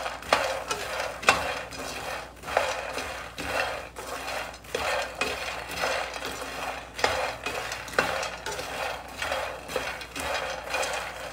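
Makhana (fox nuts) roasting in ghee, stirred in a pan: a steady dry rustle with repeated scraping strokes in an irregular rhythm, close and moderately loud, with no talking.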